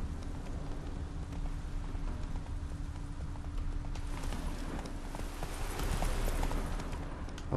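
Horse hooves clip-clop steadily as Roach trots along in The Witcher 3, a continuous rhythmic patter at moderate distance over a low ambient bed, growing slightly louder toward the end.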